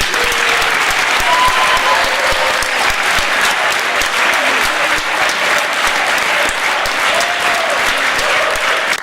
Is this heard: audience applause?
yes